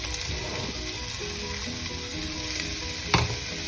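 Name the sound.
onions sizzling as they are added to the pan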